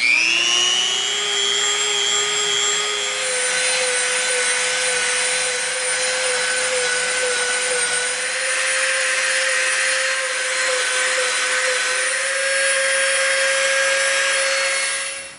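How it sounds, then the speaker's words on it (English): A Dremel rotary tool grinds and sands the edges of an EVA foam crossbow body piece, a loud steady high-pitched whine that holds constant speed for the whole stretch, close up with no talking. "now we're going to Dremel the edges of our body piece"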